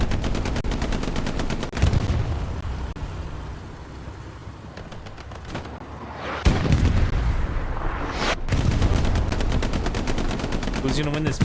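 Tank cannon fire in a Hell Let Loose match on Utah Beach during a medium tank fight, heavy reports and rattling gunfire mixed with battle noise, a lull mid-clip and then loud blasts again, with commentary talking over it.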